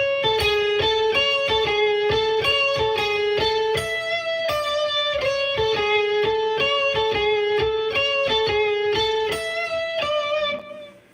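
Electric guitar with an effects unit and slight distortion plays a song, a bright, steady run of picked notes repeating in a looping pattern, close and unaccompanied, fading out at the end.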